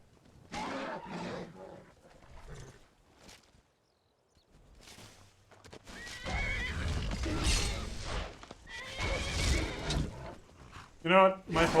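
A horse in Skyrim whinnies amid wolves, with hoof clops and snorts scattered through the clip, while a person talks over the game sounds in bursts.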